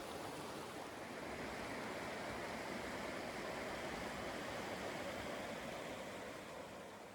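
River water in the Rakaia valley rushes over rocks in a steady, broad hiss of flowing water, close and constant, with no voices.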